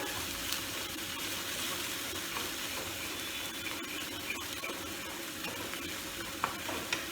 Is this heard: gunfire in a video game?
no